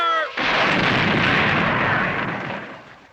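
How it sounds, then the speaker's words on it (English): Cartoon cannon fired: a single loud, close boom that cuts off a brief voice and decays into a long rumbling roar over about three seconds. "I'll blast them with the cannon"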